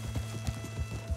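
A horse gallops in the video game Red Dead Redemption 2 with quick, rhythmic hoofbeats, about four thumping strides in a moment, fairly close and moderately quiet.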